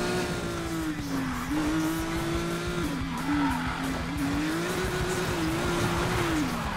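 A car in the Need for Speed Payback racing game drives with a steady engine drone whose pitch rises and dips with throttle, tires hissing and squealing underneath, close and continuous.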